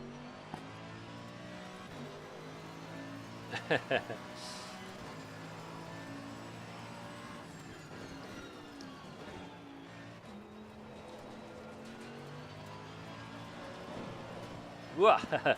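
A race car engine drones steadily at mid distance on a racing circuit, its pitch rising and falling with acceleration, punctuated by a few brief sharp bursts.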